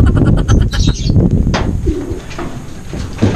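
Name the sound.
racing pigeons cooing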